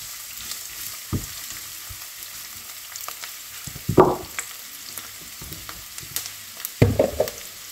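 Chopped onion sizzles and crackles as it hits hot oil in a pan, a steady frying hiss with a few louder bursts and scraping stirs near the middle and end, no voices.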